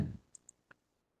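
A computer mouse gives three light, quick clicks, close and faint in a quiet room after a soft thump.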